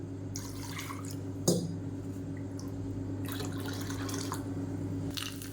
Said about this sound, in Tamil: இன்னும் கூட தண்ணி சேர்த்துக்கலாம்